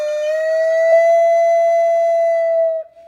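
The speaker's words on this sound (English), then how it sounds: "you can get a sigh sound, this beautiful sound that's kind of a swell and used so much in Native American flute" A Native American flute sustains one pure, steady tone for nearly three seconds, then the pitch bends down in a gentle sighing ornament as it fades; clear, close and solo.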